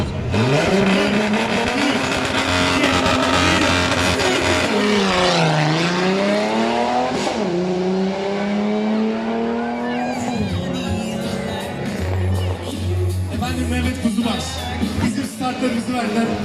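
Several off-road race car engines roar and rev loudly at a championship start ceremony, pitch sweeping up and down, with a crowd and a voice over a loudspeaker mixed underneath.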